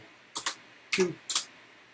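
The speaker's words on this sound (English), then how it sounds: "in my case I'm going to type it in with the keyboard" Three short bursts of key presses on a computer keyboard as a barcode number is entered, crisp and close in a quiet room.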